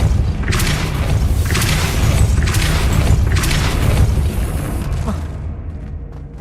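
A Depulso spell in Hogwarts Legacy gameplay lets out loud, deep booming bursts in repeated waves, with heavy low rumble and a fading tail at the end.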